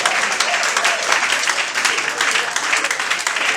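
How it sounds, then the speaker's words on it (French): A church congregation gives sustained, dense applause at a worship service, loud and continuous throughout, with voices mixed into the clapping. "Acclame fort."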